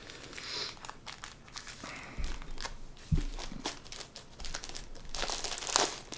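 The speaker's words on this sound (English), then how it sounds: "I cut open this bag they came in." A plastic mailing bag holding a comics package is handled and cut open, giving close crinkling and crumpling with a few scraping cuts and soft rustles, continuous and fairly quiet.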